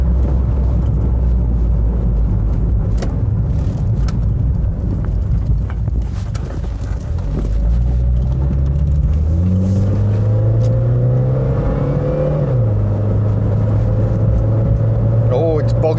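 Citroën ZX Volcane automatic car driving uphill, its engine note loud and steady from inside the cabin, rising and bogging in pitch as it labours, with wind rumble throughout and a person speaking over it.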